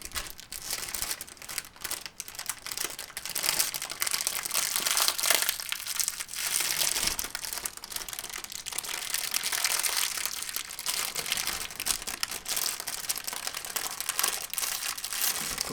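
Continuous close crinkling and crackling of a thin plastic sheet, dense and uneven, moderately loud and steady throughout with no talking.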